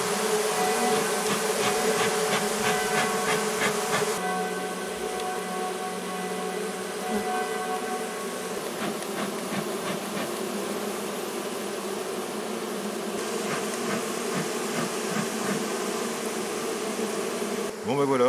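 Honey bees swarm around beehives in an apiary during a box change, producing a dense, continuous buzzing hum close to the microphone that lasts throughout, with no talk.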